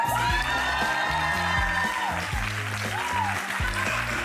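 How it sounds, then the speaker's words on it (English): A live audience claps and cheers in a dense, steady burst of applause with whoops, while a voice speaks over the crowd noise. "Claps."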